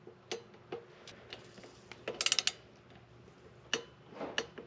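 Torque wrench tightening TW200 fender bolts, scattered faint mechanical ticks and a quick cluster of clicks near the middle, quiet and close, with no talk.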